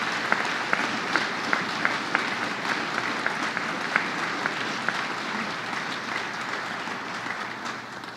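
A live audience gives Senator Tom Libous a sustained round of applause at a governor's announcement about land for a new pharmacy school in Binghamton; the clapping is dense and steady for about eight seconds, with occasional sharper claps standing out.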